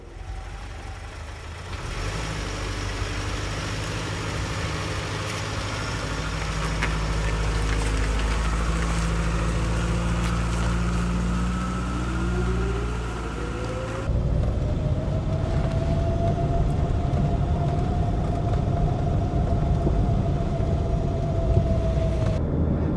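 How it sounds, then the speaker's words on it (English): Volvo 343 with Varimatic transmission driving on the road, engine drone holding steady then shifting, with a rising whistle that settles into a sustained tone, recorded from inside the car. "we'll get the 343 out on the road and you can experience what a Varimatic"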